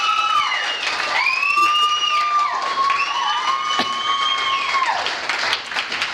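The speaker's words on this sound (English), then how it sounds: "can you give this guy a very, very big round of applause" An audience at the Pure Romance Australia awards ceremony in 2013 applauds and cheers for Chad. The dense clapping is loud and sustained, with high shouts and whoops rising above it.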